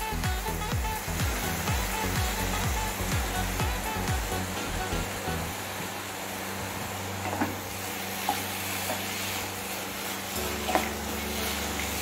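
Carrot halwa cooks in ghee with a soft, continuous sizzle and bubbling hiss. Dull stirring scrapes sound through it and a low rumble comes from the stove, with a few sharp clicks from the pan.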